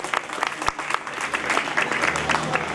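Audience applause at a Bugatti awards ceremony at the Molsheim festival, a steady crowd clapping that swells slightly toward the end, fairly loud and close.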